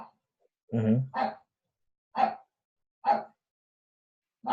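A pet dog barks indoors: a deeper double bark, then three sharp single barks spaced about a second apart, fairly close, with silence between.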